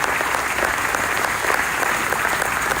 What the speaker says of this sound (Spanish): Denles un aplauso al Señor, hermanos